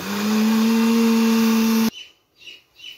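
A blender mixing crepe batter whirs loudly and steadily for a couple of seconds, then cuts off abruptly, leaving near silence with faint soft sounds.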